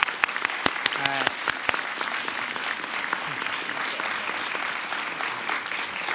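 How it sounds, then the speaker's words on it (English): A crowd at a 2019 congressional briefing claps steadily in sustained applause, with a few sharp louder claps near the microphone early on. "Give these guys a round of hand and applause."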